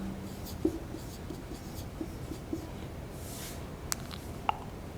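Pen or marker writing on a board or paper during a reasoning lesson, a faint scratchy stroke sound with a few light taps, low and steady under room hiss.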